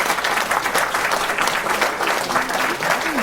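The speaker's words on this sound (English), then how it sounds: "I missed that over the applause." Studio audience applause welcoming a podcast guest, a dense, steady wash of many hands clapping throughout, loud and close, with a few faint voices mixed in.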